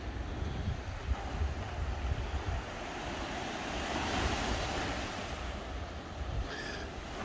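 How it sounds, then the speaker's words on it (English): Mediterranean Sea waves break on the shore at Caesarea Maritima, Israel: a steady, fairly close wash of surf with gusty wind noise swelling through the middle and no voices. "But before it, let's listen to the waves."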